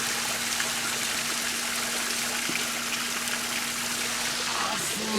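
Water at Car Wash Falls in Arkansas rushes in a steady, dense roar, constant and moderately loud throughout, like a waterfall heard from close by.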